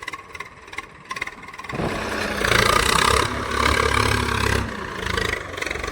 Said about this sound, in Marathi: रिवर्स चाललाय ट्रॅक्टर, मागं लागलं नाही म्हणून